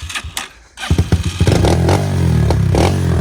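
An SSR190 pit bike catches with a few sputtering pulses, then settles into a loud, close, steady engine run as the rider sets off, with light clatter mixed in.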